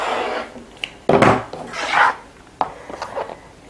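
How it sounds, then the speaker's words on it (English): Fabric edges are trimmed along a ruler for a beginner table runner, with a few close, uneven cutting and rubbing strokes separated by brief pauses and no talk. "line your ruler up straight across and trim these edges"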